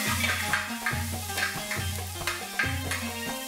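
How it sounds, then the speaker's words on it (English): Finely chopped large onion sautéing in hot oil in a pan for kharda chicken, a steady close sizzle with repeated stirring scrapes at a regular rhythm, no talking. "I'm going to just fry this onion till it's translucent and pink."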